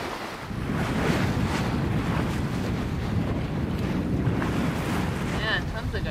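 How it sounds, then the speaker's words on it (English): Strong wind buffets a sailing boat at sea, a steady loud roar of gusts and microphone wind noise over surf and water, continuous throughout with no talk. "Finally, we have some wind today, and of course, it's coming exactly out of the direction we want to go."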